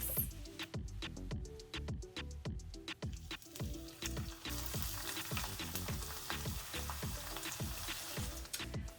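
Plantain pieces frying in hot oil crackle and sizzle steadily, with quick repeated ticking pops throughout at a fairly quiet level.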